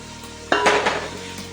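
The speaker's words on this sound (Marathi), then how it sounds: "हे टोमॅटोसुद्धा आपल्याला एक मिनिटभर असं परतून घ्यायचं आहे" Tomatoes being sautéed for chicken biryani make a short burst of sizzle and a utensil scrape against the pan, loud and close, fading within a second.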